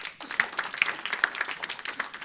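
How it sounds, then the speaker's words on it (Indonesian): A church congregation breaks into applause during a sermon, a brief patter of many hands clapping in a room, moderately loud with no voices over it. "Tepuk tangan."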